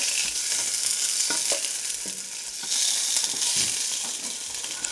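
Sausage frying in a pan for a Filipino breakfast, sizzling and crackling steadily up close, with a few sharp pops and a louder surge of hiss partway through.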